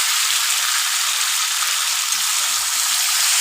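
Potato and egg curry sautéing in a pan, a loud, dense, continuous sizzle close by with a faint low stirring rumble and no voices.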